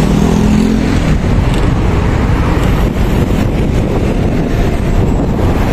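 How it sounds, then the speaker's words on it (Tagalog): Steady road traffic on a busy northbound highway, a dense continuous roar of passing vehicles heavily mixed with buffeting wind noise on the microphone, loud and unbroken throughout. "Ang traffic northbound niya nakagawas, oh."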